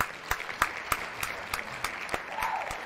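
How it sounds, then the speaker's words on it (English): Applause plays as a sound effect on a Minecraft stream, steady clapping with sharp individual claps popping out at irregular intervals over a constant wash of clapping, loud and close without cheering voices. "Let's do a little cheer for that."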